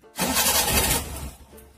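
A vehicle engine cranks with a loud, rough burst for about a second, then fades and dies without catching, close by.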